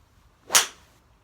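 A single crisp, muted strike of a Callaway Epic 3-wood fairway wood on a golf ball, followed by a brief fading whoosh, heard alone against quiet outdoor air.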